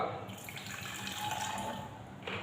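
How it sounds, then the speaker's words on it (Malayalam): Water runs and splashes into a bottle holding powdered salt, a steady close trickle lasting a couple of seconds. "ശേഷം കുറച്ച് വെള്ളം ഒഴിച്ചു കൊടുക്കുക"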